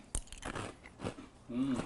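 A mouthful of Cheerios Oat Crunch Cinnamon cereal is chewed close up: a few crisp, crackling crunches and bites, with a short voiced sound near the end.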